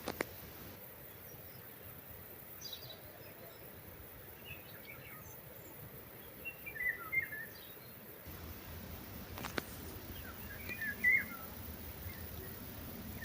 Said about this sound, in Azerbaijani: Quşların səsinə qulaq verin.